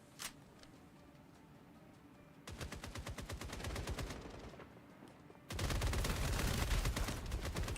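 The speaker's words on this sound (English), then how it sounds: "I was gonna grab a submachine gun and run again." Submachine gun fire in a video game, two rapid automatic bursts: a three-second rattling string of fast shots, a brief pause, then a louder, denser burst that runs to the end.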